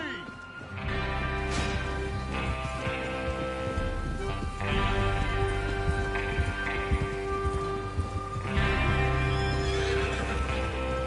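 Horses whinny and hooves clip-clop in Red Dead Redemption 2 as riders prepare for a train robbery, loud neighs rising over rain-like patter and a steady low rumble, with voices talking.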